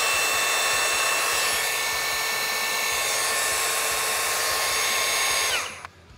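Ryobi 18V One+ PBLMM01 brushless cordless mud mixer running steadily at full speed, a loud continuous motor whine and rush for about five seconds before it winds down and stops.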